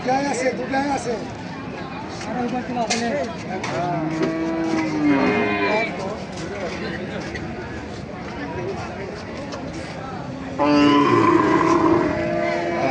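Several cattle, including dairy cows, moo loudly at close range at a weekly cattle market in Panchbibi, long drawn-out calls repeating amid busy crowd chatter and background noise.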